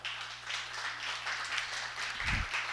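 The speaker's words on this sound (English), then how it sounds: "Let's give a huge round of applause to Michael." Audience applause fills a meetup talk on data visualization, a steady broadband patter of many hands that holds at even loudness throughout with no talking over it.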